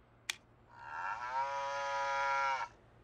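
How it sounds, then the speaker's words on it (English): A single long, loud cow moo with a rich harmonic tone, lasting about two seconds, preceded by a brief sharp click. "And you know what a cow says."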